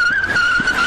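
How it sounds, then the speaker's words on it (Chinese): A car fleeing a police stop at an intersection in Dali, Taichung, accelerating hard with a loud, sustained tyre squeal and engine roar in a brief burst. "驾驶踩油门往前继续逃"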